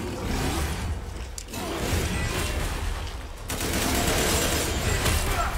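Dense, sustained gunfire rattles through Resident Evil Village combat, heavy and close, with a brief lull before a second, louder barrage.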